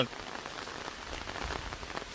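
Steady rain pours down during a storm, a dense, even hiss of drops drumming on surfaces throughout, close and continuous with no talking.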